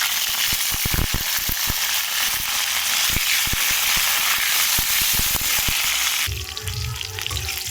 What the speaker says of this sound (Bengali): তো দেখো আমি ফুলকপিগুলো আমি সব এক এক করে লাল করে ভাজবো